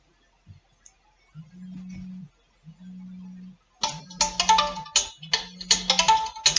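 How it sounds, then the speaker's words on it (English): A mobile phone rings repeatedly with an electronic ringtone, first as soft low tones and then as brighter bursts with clicks, coming in short rhythmic bursts in a quiet room with no talking. "My phone just keeps going off constantly."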